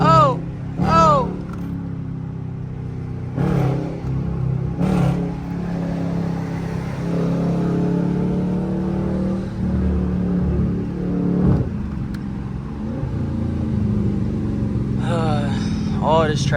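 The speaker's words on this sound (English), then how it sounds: "But I guess as long as y'all can hear the engine, that's all that matters, right?" A Dodge Charger R/T engine rumbles and revs steadily in rush-hour traffic, a continuous low drone that swells at moments, with someone talking over it at times.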